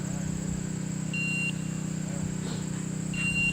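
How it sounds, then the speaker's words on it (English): Several short electronic beeps sound in bursts over a steady low hum, with faint voices in the background. "A lot of beeping going on."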